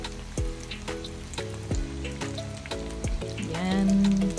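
Fish fillet frying in hot oil, a steady close sizzle and crackle with musical tones layered over it, growing louder toward the end.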